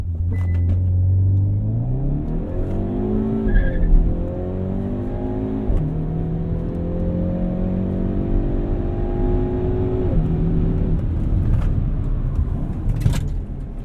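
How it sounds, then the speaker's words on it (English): A 2022 Hyundai Veloster N hot hatch launches hard from inside the cabin, engine droning loud and steady as it climbs through the revs, with a brief dip at each upshift and faint tire chirp early on. "That's a fast launch. Spun the tires from 1 to 2."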